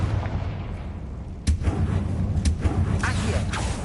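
Confringo spell blasts in a Harry Potter video game: a sharp explosive crack bursts out, then a second hit follows a second later, both over a steady low rumble of in-game ambience.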